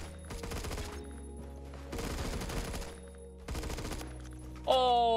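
M16A3 rifle gunfire in the video game Phantom Forces: three rapid bursts of automatic shots at moderate volume over steady background hum, ending with a brief tonal game sound.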